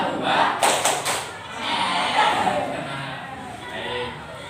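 A classroom of students performs the 'tepuk pedas' clap routine, a short burst of several rapid sharp claps near the start followed by a second softer flurry, with voices over the room.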